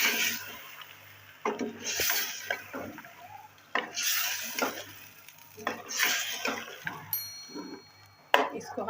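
Spices and yogurt being fried in a pan for chicken potato salan, repeated rough scraping and stirring strokes against the pan over a low sizzle, close and without talk.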